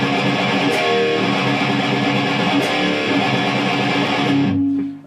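Heavily distorted metal rhythm guitar riff playing four chords in a chromatic run, a dense, loud, sustained wall of grinding tone that cuts off abruptly at the end, with no voices.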